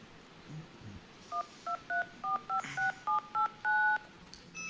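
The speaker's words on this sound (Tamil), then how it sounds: "எப்பா சரி, நம்ம வவ்வாலுக்கு ஒரு ஃபோனை போடுவோம்." Keypad tones of a telephone being dialed, about ten short evenly spaced beeps in a quick run ending on a slightly longer tone, fairly clear over a low background hum.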